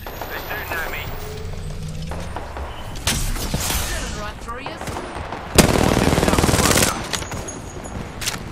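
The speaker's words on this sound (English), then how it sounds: "They're shooting at me." Gunfire in a battle royale video game: repeated bursts and single shots through most of the stretch, loudest in a dense volley near the end, with a player talking over the shooting.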